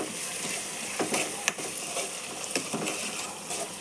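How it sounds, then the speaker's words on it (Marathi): Salt being sautéed in a pan with fenugreek greens nearby, a quiet steady sizzle with scattered small clicks and scrapes of stirring close by. "चला, मिठाला परतून घेऊया."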